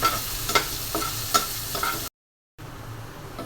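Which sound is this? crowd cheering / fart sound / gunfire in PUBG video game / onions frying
onions frying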